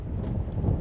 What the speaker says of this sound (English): I don't know if you can hear me because it's windy again, once again.